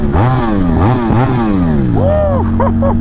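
A Ducati Panigale V4 SP2 engine revs hard in close, loud blips, its pitch sweeping up and falling back several times, with quick crackling pops near the end.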